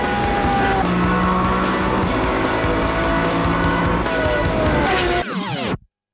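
A loud sports car engine, the R, roars steadily at close range with shifting engine tones, then a sharp revving sweep near the end before cutting off abruptly.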